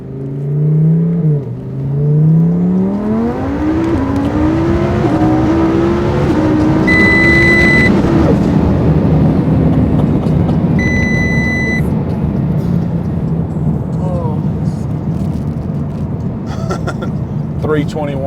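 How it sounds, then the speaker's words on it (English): A twin turbo Audi R8 with huge exposed turbos accelerates hard from 60 to 130, its engine roaring and rising steadily in pitch with tire spin, loud and close, while people talk over it. "Spinning the tires."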